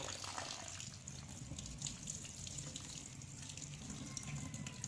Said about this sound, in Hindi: अब हम इसके ऊपर टूटी वाला ठंडा पानी डालेंगे ताकि ये जल्दी से ठंडा हो जाए।